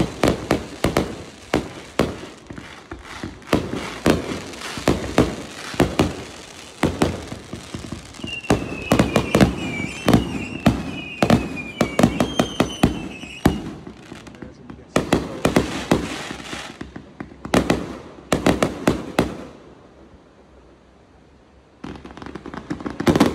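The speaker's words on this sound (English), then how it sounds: "someone got married and they literally they lit fireworks" Fireworks set off for a wedding celebration at a beach resort in Punta Mita, a dense run of sharp bangs and crackling bursts with a whistling rise midway, then a brief lull before more pops.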